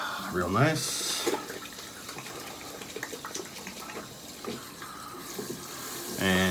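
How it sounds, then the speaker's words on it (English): Tap water running steadily into a bathroom sink during a straight razor shave, a continuous hissing splash with occasional splashes, with someone talking over it. "And change that water to ice cold."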